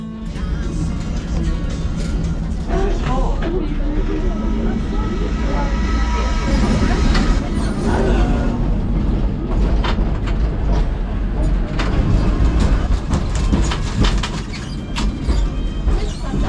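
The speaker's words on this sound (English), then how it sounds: "I hope you enjoyed that tram ride here" A tram rolls through the hilly streets of Lisbon, with steady rumbling and clattering on the rails, mixed with people talking on board and around it.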